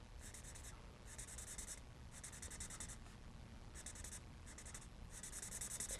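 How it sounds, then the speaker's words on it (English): Colorless blender pen rubbing short lines on patterned card-making paper, a soft scratchy hiss in repeated bursts of strokes separated by brief pauses. "All I'm really doing is rubbing a line, and it's just pulling color off"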